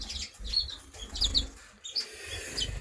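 Serin finches of the brown mutation flutter about a breeding cage, with soft wing flaps and shuffling broken by a few short, high chirps, quiet and close.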